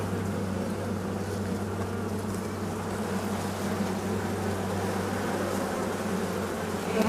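A honeybee colony hums inside a hive in September, a dense continuous drone with a steady low buzz, close and unbroken, with no voices.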